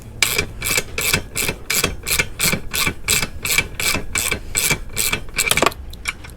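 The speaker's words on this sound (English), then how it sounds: "So take this bolt off." Ratchet working a bolt loose on a 2021 Honda CRF110 dirt bike, giving a steady run of about fifteen quick, close clicking bursts in an even rhythm with no talk.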